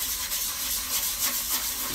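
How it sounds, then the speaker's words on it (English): Hand sanding of a varnished violin surface in gentle circles, a soft continuous scratchy rubbing that swells slightly with each stroke, close and alone. "sand the surface, make a circle"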